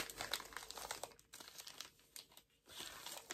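Wrapping paper being torn and crinkled as a wrapped book is ripped open, close and continuous crackling and tearing with short pauses.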